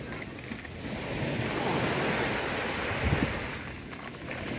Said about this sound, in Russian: А вот сейчас вот волна поднялась.